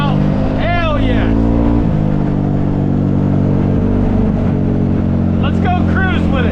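A CFMOTO ZForce 500 UTV with a new clutch kit hums steadily close by in a low engine drone, under excited voices talking over it.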